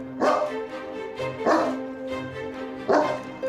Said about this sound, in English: They're big, scary dogs, so we have to see how they react to me.